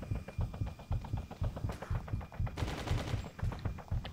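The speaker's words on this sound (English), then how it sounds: "Still getting shot." Rapid gunfire rattles in the video game Just Cause, with quick machine-gun bursts and several overlapping volleys in a fast, uneven rhythm, fairly quiet in the mix.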